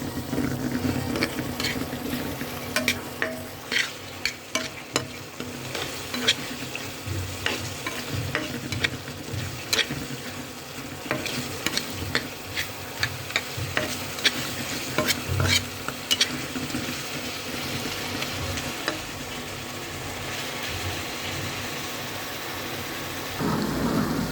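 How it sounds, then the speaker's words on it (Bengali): Turmeric and chili powder with cumin being stirred and fried for a prawn dish: a steady sizzle with repeated scraping strokes of a spatula against the pan, close and continuous, without speech. "আমি ভালো করে আবার কষিয়ে নিচ্ছি, হলুদ মরিচের গুঁড়াটা থেকে যাতে কোনো কাঁচা গন্ধ না আসে"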